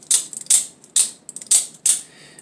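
A series of five sharp mechanical snaps in quick succession as an OTF knife blade fires in and out, each a crisp metallic click with a brief springy tail, close and fairly loud.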